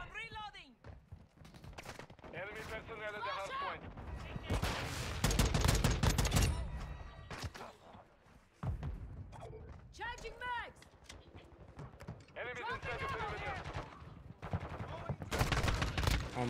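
FTAC Recon rifle fire in Call of Duty Modern Warfare 2 comes in several loud bursts of rapid shots, with a voice talking between and over them.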